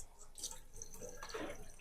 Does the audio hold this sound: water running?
yes